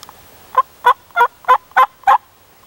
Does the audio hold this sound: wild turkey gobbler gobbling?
yes